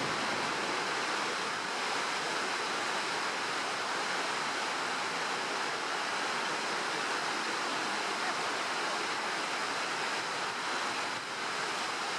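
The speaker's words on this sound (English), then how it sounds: "This walkway takes you to the Gullfoss waterfall." Gullfoss waterfall in Iceland roars in a broad, constant rush of falling water, loud and unbroken from start to finish with no voices over it.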